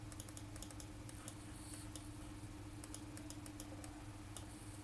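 Rapid, light mouse clicks repeating in quick succession over a steady electrical hum, close and quiet, with no talking.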